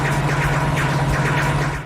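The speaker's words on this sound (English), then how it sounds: "That's the sound of me desperately trying to use my boost and the game resetting the sound effect over and over" Stuttering boost sound effect in the Wacky Races racing video game, a steady buzzing tone that keeps restarting in quick, even pulses for about two seconds, loud and with no voices.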